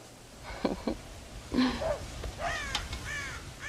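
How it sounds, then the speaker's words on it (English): Crows cawing in the Red Dead Redemption video game, several short, harsh caws in irregular bursts, fairly close and distinct over a quiet outdoor background. "God damn crows!"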